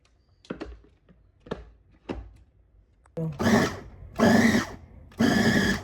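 Electric mixer kneading chin chin dough, starting with a few sharp knocks and thuds, then three loud whirring bursts of the motor close by, each running about a second with brief pauses between.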